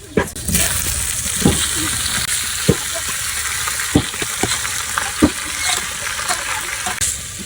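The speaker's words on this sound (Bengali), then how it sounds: "চিংড়ি মাছ বাটা দিয়ে দিলাম। পেঁয়াজ রসুন মরিচ সব বাদামি কালার করে টাইলে নিছি।" Onion, garlic and chili sizzle and fry with shrimp paste in a pan, a steady close crackle broken by sharp clinks and scrapes of stirring, with no talk.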